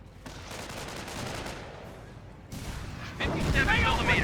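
Gunfire and artillery blasts from the World War II strategy game Company of Heroes, matched by US forces against Panzer Elite, roll as dense, rumbling battle noise. A louder burst of fire arrives near the end.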